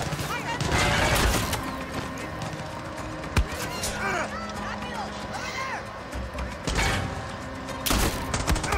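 Shotgun fire in Far Cry 6 gameplay, a few loud sharp blasts amid chaotic battle noise and a crash, with someone talking excitedly over much of it.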